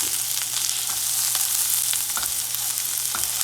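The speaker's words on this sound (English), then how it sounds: "get them down onto that skillet so they can cook" Onions fry in a hot skillet for a migas breakfast, a steady close sizzle with a scatter of small crackles and pops throughout.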